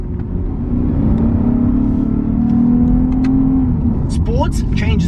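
A Lexus IS350 F-Sport engine revs steadily and loudly from inside the car on a mountain climb, its note rising and falling with quick gear changes, while a voice talks over it.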